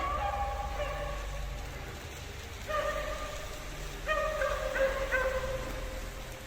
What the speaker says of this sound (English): it sounds like those dogs are getting closer.